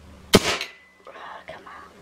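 A single sharp crack from a .22 Hatsan/Gamo air rifle firing a pellet at an apple, followed by quiet murmured voices.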